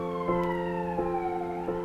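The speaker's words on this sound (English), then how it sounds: "An ambulance." Ambulance siren in the video game Danganronpa, a steady wailing tone with a repeating pulse roughly every 0.7 seconds, loud and continuous on its own over background music.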